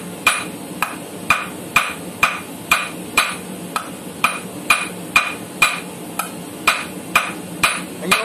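Steady, evenly spaced hammer blows ring out on hot metal at a forge while shaping an arrowhead, about two strikes per second, each with a sharp metallic clang.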